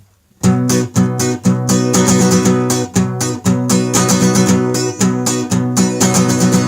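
An acoustic guitar plays an opening strum pattern, a steady run of bright chord strokes with short choked gaps, close and loud throughout with no talking.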